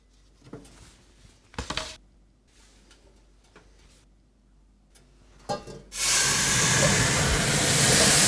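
A few scrapes and clunks, then a sudden loud, sustained hiss of steam erupts inside a hot oven with a preheated baking plate and steam bar as baguettes go in, filling the last seconds.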